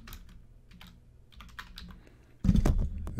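Quick, uneven typing on a computer keyboard while entering vending machine product codes, soft light keystrokes at first, then a louder flurry of keys near the end.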